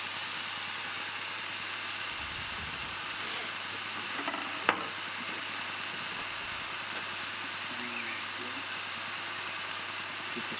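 Gyros meat resting in a hot pan gives off a steady, soft broadband sizzle that runs the whole time, with a sharp click partway through and faint handling noises.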